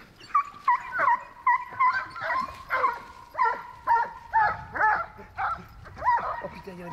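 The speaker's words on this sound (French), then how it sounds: "Il y a des chiens." Hunting dogs baying on a deer hunt, a steady series of close, loud yelping barks in quick rhythm, with people talking over them.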